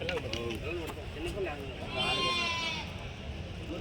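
Sheep bleat at a crowded Tuesday livestock market in Kadiri, with a few wavering calls close by over a constant murmur of people talking and milling around.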